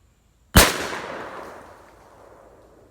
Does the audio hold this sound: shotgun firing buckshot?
yes